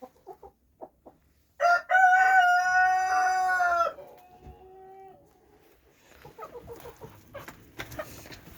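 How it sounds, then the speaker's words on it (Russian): A rooster crows loudly once inside a warm chicken coop at morning feeding, a drawn-out two-second call after a few faint clucks, followed by quieter clucking and shuffling from the hens. "Одни петухи."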